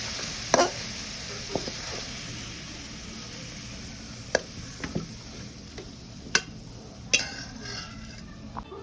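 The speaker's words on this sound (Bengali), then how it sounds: "শিম আলু ভাজি করতেছি" Green beans and potatoes frying in a pan at home, a soft steady sizzle with a few sharp utensil scrapes and clinks against the pot scattered through, fairly quiet and without talk.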